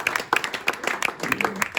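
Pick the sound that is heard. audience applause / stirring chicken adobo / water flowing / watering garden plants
audience applause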